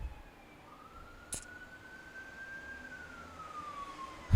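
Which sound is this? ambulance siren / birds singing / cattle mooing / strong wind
ambulance siren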